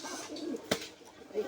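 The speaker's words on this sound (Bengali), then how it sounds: "দেখো আমার অ্যান্টেনায় পায়রাও ছাড়া আছে, দুটো পায়রা জোড়া আছে" A pair of pigeons perched on a rooftop antenna give a faint, soft coo, with a brief sharp click in the middle of the short stretch.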